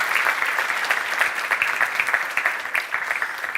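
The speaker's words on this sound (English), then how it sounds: "They deserve a wonderful round of applause and a pat on the back also." Dense crowd applause at a Satya Narayan Vrat Katha temple event, a steady patter of many hands clapping at a fairly even level throughout.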